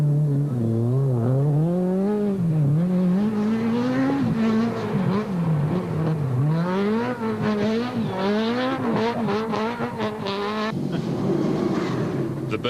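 Volkswagen rally car racing hard on a rally stage, the engine loud and close as it climbs and falls through repeated gear changes, with tyre noise near the end.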